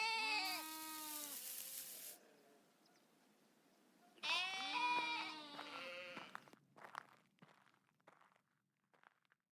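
Goats bleat in two loud, wavering bursts close by, each a cluster of overlapping cries, followed by shuffling footsteps and scattered small knocks.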